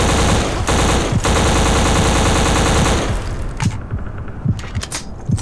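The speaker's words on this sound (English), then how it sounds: "He's just shooting through the floor at you with a machine gun" Sustained rapid machine gun fire from a video game, loud and continuous for about three seconds, then giving way to scattered thumps and quieter bursts.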